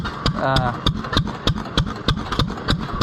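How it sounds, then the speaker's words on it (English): Throttle-governed antique gas engine at a county fair display, firing in a steady, even rhythm of sharp, punchy exhaust beats about three per second, close and loud with a ringing mechanical tone between hits. "Throttle governed engines hit every time."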